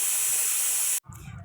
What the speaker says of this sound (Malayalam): അതിനുശേഷം എഗ്ഗ് കുക്കറിൽ പുഴുങ്ങാൻ വേണ്ടി വെച്ചിട്ടുണ്ടായിരുന്നു.